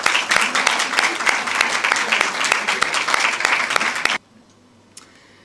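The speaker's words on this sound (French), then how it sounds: "on peut l'applaudir" A forum audience at the Gnaoua and World Music festival applauds someone named to head the Council of Europe: loud, even clapping from a room of people that stops abruptly, leaving near silence.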